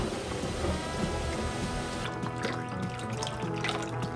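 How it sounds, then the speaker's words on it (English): Water pours steadily into a big roasting pan holding ribs being parboiled for a beef stock braise, a continuous splashing, trickling wash that stays close and fairly loud throughout, with no talking. "now we're going to add some water."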